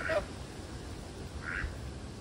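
A farm goose in Normandy, France, gives two short, faint honking calls about a second apart over quiet outdoor background noise.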